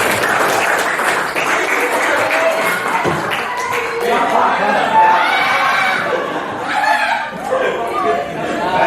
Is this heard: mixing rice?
no